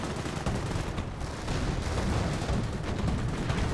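Dense gunfire and explosions from a Company of Heroes 1 World War II battle with infantry and tanks, loud continuous crackling volleys and booms filling the whole stretch with no voices.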